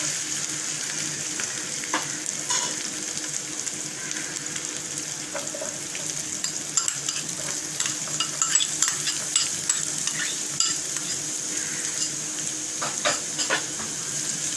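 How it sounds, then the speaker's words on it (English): Chopped onions sizzle steadily in a hot pan, a dense, continuous hiss with occasional stirring scrapes and clinks close by. "And we need to brown these onions a bit."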